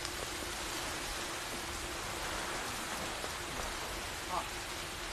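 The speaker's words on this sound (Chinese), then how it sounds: "走到半路上下这么大雨，真够狼狈的" Heavy rain falls on a roadside in a period drama scene, a steady, even hiss of downpour at moderate level with no breaks.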